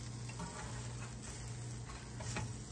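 Chicken sizzling in a pan for tacos, a steady soft frying hiss that stays even and continuous with no talking over it.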